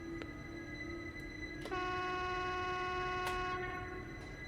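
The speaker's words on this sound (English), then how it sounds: "Honking the horn inside of the subway just to hurt people's ears." A video-game train horn sounding inside a subway tunnel in The Long Haul, a brief toot followed by a long sustained multi-tone blast over steady rumbling rail noise.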